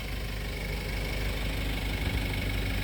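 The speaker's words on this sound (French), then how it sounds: "un Toyota Hilux Surf 1995 avec un moteur 3 litres turbo diesel, le 1KZ TE." A 1995 Toyota Hilux Surf with a 3-litre 1KZ-TE turbo diesel idles steadily, a close, even, gravelly rumble with a faint diesel knock throughout.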